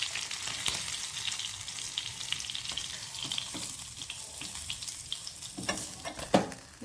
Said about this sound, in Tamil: இப்போ வந்து பார்த்தீங்கன்னா மீன் நல்லா பொரிஞ்சிட்டு இந்த மீனையும் இறக்குவோம்